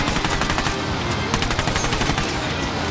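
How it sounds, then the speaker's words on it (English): Rapid automatic gunfire in a co-op military shooter game, aimed at a vehicle's tires: dense, continuous bursts of shots filling the whole moment with faint voice chatter underneath. "Now, shoot the tires on this thing."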